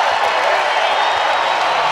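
A basketball crowd roars after a dunk in an Indiana State Sycamores game against Illinois State, a loud, steady wash of cheering throughout the short moment.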